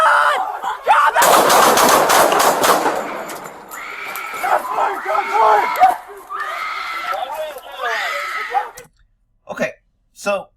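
Police fire a rapid burst of loud, densely packed gunshots for about two seconds, then people shout in strained, urgent voices that trail off into near silence.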